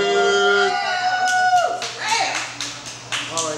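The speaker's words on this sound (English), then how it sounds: "I need y'all clapping." Crowd at a live app release party filming gives a few scattered, sharp handclaps after a sustained tonal sound fades, the claps spaced irregularly with voices faintly around them.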